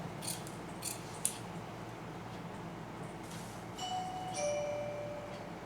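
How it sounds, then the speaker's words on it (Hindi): Scissors snipping fabric for a handmade party handbag, a few faint, quick cuts with light metallic clicks in a quiet room. "पहले हम यहाँ पर इसको कट कर लेते हैं।"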